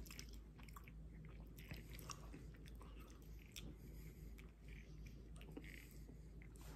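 Someone bites into and chews Quest nacho cheese protein chips, producing repeated crisp crunches and softer mouth sounds, close up and quiet with no talking.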